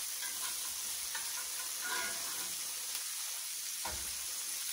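Filet mignon steaks frying in butter flavored with garlic, rosemary and thyme, a steady close sizzle with crackling pops and a brief spatter near the end.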